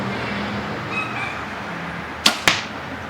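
A 2015 New Breed Blade compound bow is shot with little kick: two sharp, close snaps land near the end, following a quiet outdoor background.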